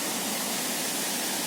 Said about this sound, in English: trying to take some morning shots of the waterfall here at the base of the Portuguese Bridge